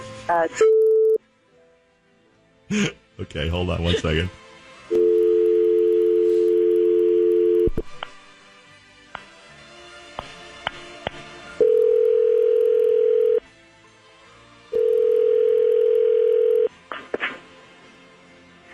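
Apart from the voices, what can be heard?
telephone dialing and ringing tone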